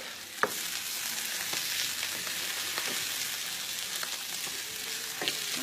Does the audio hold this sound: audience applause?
no